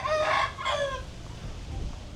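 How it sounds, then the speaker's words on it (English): A rooster crows twice in close succession in a residential neighborhood of Kupang, West Timor, among households keeping chickens and other livestock, fairly loud and near, followed by quieter outdoor ambience. "chickens and other livestock here"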